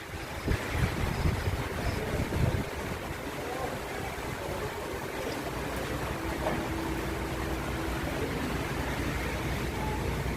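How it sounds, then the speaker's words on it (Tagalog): Strong wind rushing steadily around a parked vehicle, a dense broadband roar with buffeting near the start, then holding at a constant loud level. "Ririnig niyo yung hangin."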